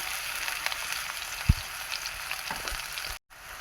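Onions fry in hot oil in a kadai for potato-peas curry, a close steady sizzle with a sharp knock of a utensil partway through and a brief dropout near the end.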